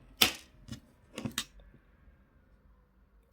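Jewelry wire being snipped with cutters while wire-wrapping earrings, a few short sharp clicks and snaps spaced apart in a quiet room.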